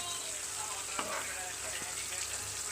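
Pieces of fish frying in oil in a pan, turned one by one, give a steady close hiss of sizzling with a couple of brief clinks or scrapes.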